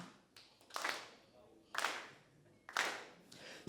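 Hands clapping in a slow spaced rhythm, three or four broad sharp claps spread a second apart, fairly close and moderately loud with quiet gaps between.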